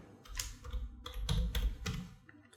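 Typing on a computer keyboard, a quick run of soft close key clicks and taps in uneven bursts, fairly faint, no talking.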